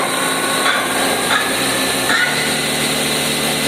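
Geared machine running at high speed up to 6000 RPM, oil coating the gears: a steady, loud mechanical whine with constant tonal hum and a few brief scraping bursts, no talking.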